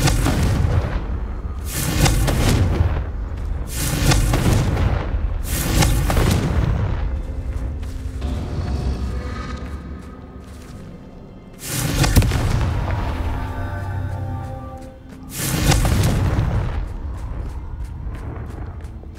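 Repeated Confringo blasting-curse explosions from Hogwarts Legacy, a series of loud booming bursts in a steady rhythm with crackling tails and one longer rumbling lull between blasts.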